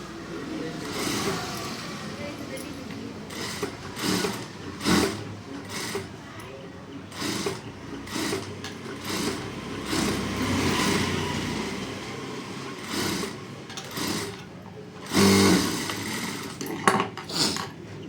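Sewing machine stitching a prince cut blouse, its motor running in uneven bursts with short pauses between seams, close by, with a voice talking over parts of it.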